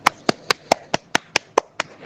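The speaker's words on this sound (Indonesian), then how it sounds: "Ayo beri aplaus untuk Nikma." A classroom applauds a student in slow, even unison, about ten sharp, distinct claps a fifth of a second apart, close and clear with nothing else over them.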